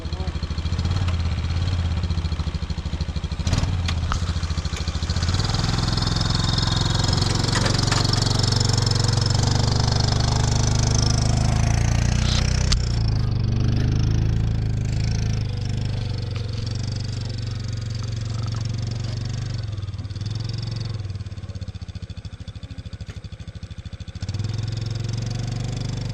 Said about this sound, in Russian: Хорошая техника квадроцикл.